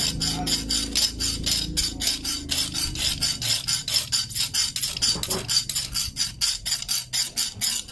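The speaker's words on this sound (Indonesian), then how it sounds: "saya bolak-balik menggesekkan senar ini" Steady, rapid back-and-forth rasping as a Varivas Ocean Record 100lb fishing leader line is rubbed across a sharp saw edge, repeating in quick strokes throughout with a scraping, saw-like texture.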